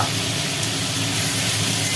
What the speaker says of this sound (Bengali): এখনো পেঁয়াজ টমেটো আর মাংস ভাজা চলছে